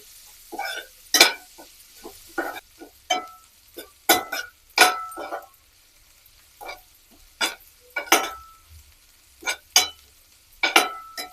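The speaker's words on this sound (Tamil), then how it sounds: "வெங்காயம் நல்லா வதங்கி வந்துடுச்சு" Small onions sauté in a pan for a prawn pepper fry, heard as irregular bursts of spatula stirring and scraping with quiet gaps of soft sizzle between them.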